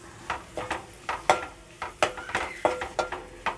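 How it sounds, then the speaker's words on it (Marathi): Clams are sautéed in spice masala in a pan, with a stirring spoon scraping and clinking against the metal in a quick, regular rhythm over a soft sizzle. "शिंपले घालून मी 1 मिनिट फक्त मसाल्यामध्ये परतून घेतले"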